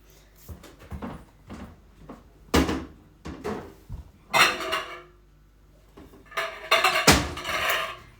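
Quiet kitchen handling: a series of soft knocks, clacks and a cupboard door bumping, then a ceramic bowl clinking and scraping as it is pulled out.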